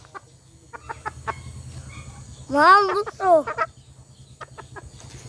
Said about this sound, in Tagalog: ayun yung isa pang manok